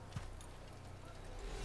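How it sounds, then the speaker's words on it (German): Horse hooves clip-clop in Assassin's Creed, a steady run of quiet, rapid hoofbeats from a ridden horse under game ambience, with a faint voice speaking. "Aber zum Glück dürfen wir ein Pferd benutzen."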